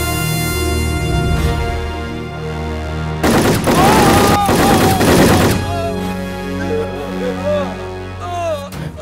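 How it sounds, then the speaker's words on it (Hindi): A burst of gunshots is fired in a Hindi action film scene, a loud, dense volley lasting about two seconds that stands out between stretches of background score, with voices and music following. "कोई तो बाइक पर आकर गोलियां दागकर चला गया।"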